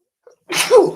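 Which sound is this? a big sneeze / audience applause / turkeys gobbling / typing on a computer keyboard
a big sneeze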